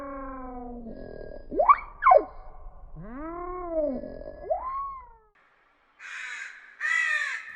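Several harsh, rising and falling caws ring out one after another, ending with two rougher, buzzier calls after a brief silence.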